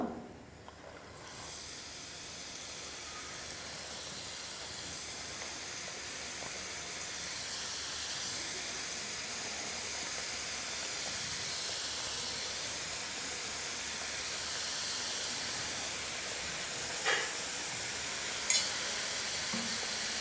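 Somas, sweet filled pastries, deep-frying in hot oil on a low flame, a steady broad hiss and bubbling that holds for the whole stretch, with a couple of faint brief clicks near the end.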